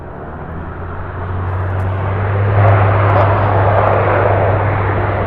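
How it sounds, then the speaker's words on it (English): Small airplane engine turning around near an airport, a steady droning buzz that swells gradually louder as the aircraft nears, heard alone over faint outdoor ambience. "That noise you hear, that buzz, is an airplane turning around."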